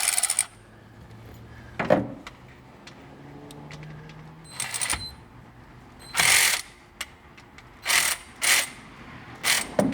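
Ratchet working a bolt loose on a 2020 CFMOTO UForce 500 side-by-side during an oil change: short bursts of close, loud clicking ratchet strokes, repeated several times with brief pauses between them.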